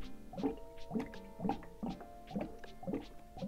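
Water trickles into a one-gallon tank of an Elechomes cool mist ultrasonic humidifier, with soft gurgles and splashes recurring in a steady rhythm about every half second, close and fairly quiet.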